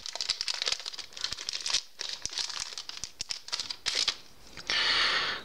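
Bubble wrap packaging around a red plastic glitter phone case for an HTC One X being handled and opened close up: steady crinkling and rustling with sharp crackles, ending in a louder continuous rustle.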